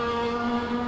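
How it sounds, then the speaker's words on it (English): Current PX1 race car in Assetto Corsa, its engine droning at steady high revs with strong sustained harmonic tones, loud and close, no voices. "to hear the way the engine roars"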